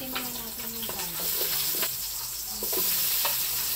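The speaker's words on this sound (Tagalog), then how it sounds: "Suti muna natin yung garlic." Garlic sautéing in a hot pan for pork sinigang soup, a steady broadband sizzle with intermittent scraping stir strokes, close and moderately loud, with a few faint vocal sounds in the background.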